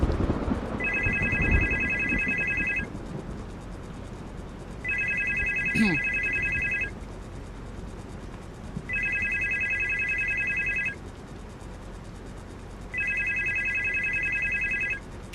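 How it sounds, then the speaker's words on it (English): A telephone rings in four long, evenly spaced electronic bursts, each lasting about two seconds with pauses between, loud and clear over outdoor background noise on an island. "I can't pick it up. We just gotta let it go to voicemail."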